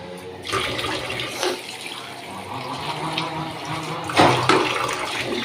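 Potatoes are washed under running water: a steady gush into a sink, with splashing and handling sounds and a louder surge near the end.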